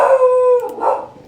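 One dog howls loudly and up close in a sustained, tonal wail that bends downward, then a shorter, rougher yowl follows, with no talking.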